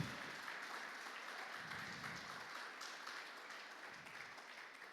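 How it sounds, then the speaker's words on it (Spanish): A church congregation at a Spanish-language service applauds together, a continuous wash of many hands clapping, steady and fairly distant in a large room, with no talk over it. "Dale un aplauso al Señor, aleluya."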